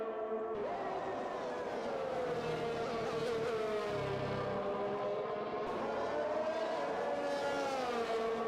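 Race cars in a racing video game, including a Mercedes and an Aston Martin on a Belgium circuit, drone with steady high engine whine, pitch rising and falling through gear changes, continuous and fairly quiet with no talk.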